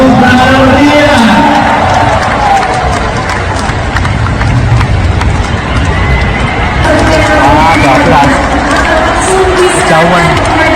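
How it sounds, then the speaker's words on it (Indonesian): A stadium crowd applauding and cheering at an event where parachutists land, a loud sustained roar of clapping and voices with someone talking over it on a public address system. "boleh kita sambung sekali lagi dengan tepuk tangan meriah"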